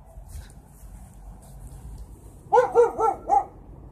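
A neighbor's dog barks four times in quick succession from across the street outside, clear and fairly loud after a stretch of quiet windy ambience.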